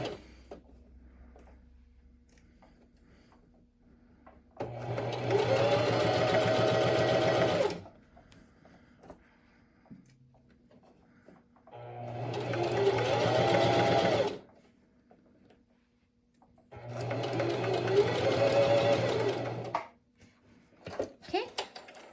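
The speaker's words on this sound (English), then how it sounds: "a plain seam straight down my fabric with a 5/8 seam allowance" A sewing machine running a plain basting seam along fabric in three separate bursts of steady, close, rapid stitching, with quiet gaps between them.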